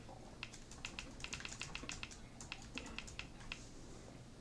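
Quiet, rapid clicking of keys on a computer keyboard while searching in a subtitle app, a steady patter of light taps with no voices.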